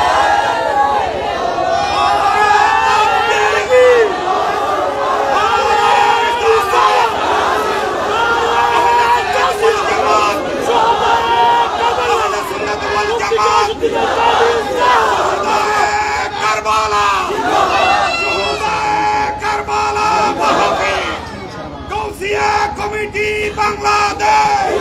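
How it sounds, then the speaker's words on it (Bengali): A large crowd at a religious gathering chants slogans with raised hands, a loud, continuous roar of many voices in unison and shouting, sustained throughout with little pause. "আমার সাথে কে কে আছেন হাত তুলে স্লোগান দেন"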